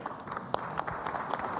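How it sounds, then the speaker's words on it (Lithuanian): Audience applause at a political party congress, a sustained patter of many hands clapping at moderate volume, heard from a little distance with occasional sharper claps. "Aplodismentai."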